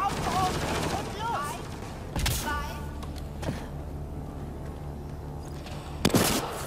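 Weapon fire in the sci-fi shooter game Mass Effect Andromeda: a fast burst of shots early, then scattered sharper bangs and a loud crack near the end over a steady low game hum, with a voice speaking at the start.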